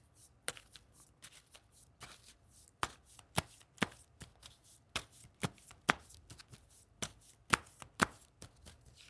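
Tarot cards being shuffled by hand, a steady run of crisp riffling snaps and soft slaps repeating every half second or so, close and clear with no talking.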